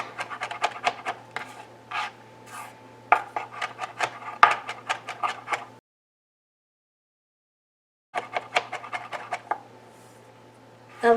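A knife chops rapidly on a cutting board during home cooking of pork chops, with a dense run of sharp, close taps, a brief pause, then another burst of quick chops.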